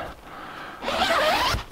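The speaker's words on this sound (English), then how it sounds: "Let's zip this up" The door of an REI Arete ASL 2 winter tent is zipped shut in one steady, rasping pull lasting about a second, close and clear after a quiet moment.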